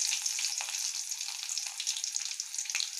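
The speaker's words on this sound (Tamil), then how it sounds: "இப்போ கடுகு நல்லா போய் தட்டின பூண்டு போட்டுக்கலாம்." Crushed unpeeled garlic hits hot oil with mustard seeds, giving a bright, steady, close sizzle that crackles on without a break.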